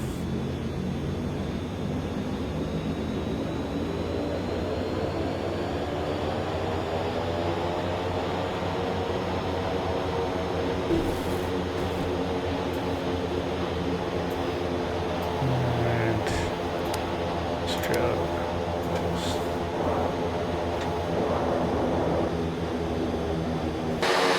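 A Kodiak aircraft's engine drones steadily and loudly while taxiing, a continuous close hum with a low tonal whine that holds throughout, with a few faint clicks on top.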